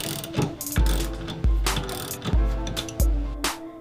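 A ratchet spins off rear coilover top nuts on a Datsun 280ZX, with steady rhythmic clicking swings and a heavy thunk at each stroke, close and loud, no speech.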